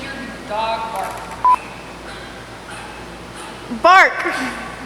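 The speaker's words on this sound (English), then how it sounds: "dog's barking to make your dog bark" Recorded dog barks and yips play in short bursts over background chatter, with a high whimpering bark near the end.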